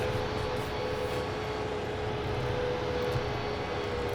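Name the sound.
train passing in farming video game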